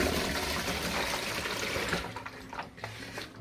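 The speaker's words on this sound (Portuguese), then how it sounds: "Agora a gente vai escorrer essa água" Water drains from freshly cut papaya cubes in a steady rushing pour for about two seconds, then thins to scattered trickles and drips, with no voices.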